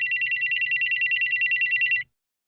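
A telephone rings with an incoming call in a crime drama, a loud, rapid, evenly pulsed electronic trill repeating steadily for two seconds before stopping dead into silence.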